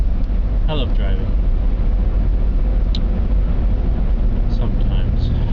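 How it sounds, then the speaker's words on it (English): Inside a car cruising down a highway, a steady low engine and road rumble runs continuously while someone talks over it. "I just happen to be driving down the highway, watching crazy people cut people off"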